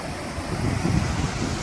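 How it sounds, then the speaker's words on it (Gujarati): Water of the Hiran river rushing along its bed, a steady broadband roar with rumbling low wash and wind, continuous and close. "હિરણ નદીના ખડખડ વહેતા પાણી"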